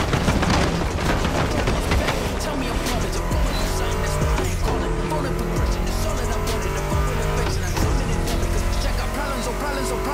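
Roaring muscle car engines, including a Ford Mustang GT, race loudly in The Crew Motorfest with tire squeals, revving and shifting continuously, a dense, aggressive motor din with music mixed underneath.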